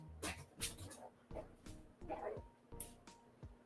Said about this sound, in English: Those puppies are going nuts.